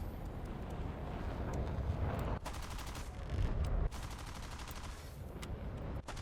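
Jet cannon fire from a Meteor FR9 in War Thunder, dense bursts of rapid shots over a steady roar of engine and wind, with two sharp loud volleys near the middle and continuous rattling throughout.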